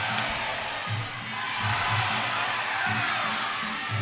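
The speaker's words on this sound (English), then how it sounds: "This crowd is going crazy already for these two young killers." A crowd cheers and shouts at a youth wrestling championship, a 102 lb junior light flyweight bout, a steady loud wash of voices with whoops rising and falling throughout.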